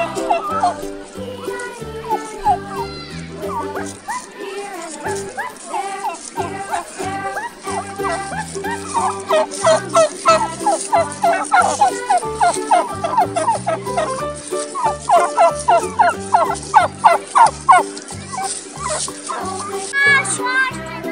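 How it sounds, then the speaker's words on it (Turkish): Turkeys in a forest gobble in repeated bursts through a kids' play scene, loud and close against a busy backdrop of music and voices. "Ormanda hindiler geldi."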